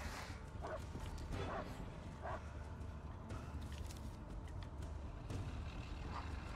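Dog barks in the Blair Witch video game, several short yips spaced out over a steady low rumble of game ambience, fairly distant and mixed into the background.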